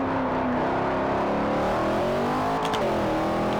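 A Chevrolet Corvette C6 ZR1 in Forza Motorsport 4 revs hard, its engine note climbing steadily and loud under sustained acceleration, with a brief shift-like break near the end before the pitch rises again.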